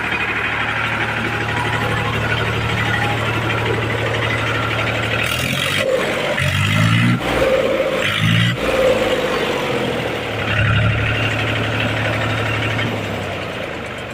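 A Mahindra 275 tractor engine runs at a steady loud idle with a low knocking throb, rising briefly in a few revs midway before settling back, with no talk over it.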